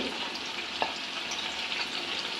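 Onions and green chillies fry in coconut oil with a dense, even hiss close by, and a single light tap of a utensil shortly into the sound, with no voices.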